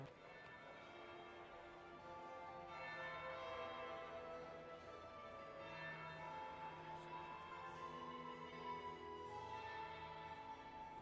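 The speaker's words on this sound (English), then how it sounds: "That would be the second bell." A bell rings in Dragon Age: Inquisition, a faint, resonant chime whose overtones layer and linger over about eleven seconds against quiet ambient game sound.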